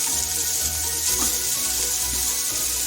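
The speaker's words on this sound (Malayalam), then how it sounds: "ഇതിലേക്ക് ഞാൻ അരിഞ്ഞ് വെച്ചിരിക്കുന്ന ചേമ്പും താള് ചേർത്ത് കൊടുക്കുകയാണ്." Chopped taro and taro stems go into a hot frying pan, bringing a loud, continuous sizzle with light shifting and crackling throughout.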